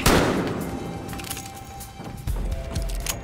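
Gunfire in the game Battlefield: Hardline, with a sharp loud shot opening a dense stretch of crackling reports and booming impacts over a steady background tone, then heavier thuds near the end.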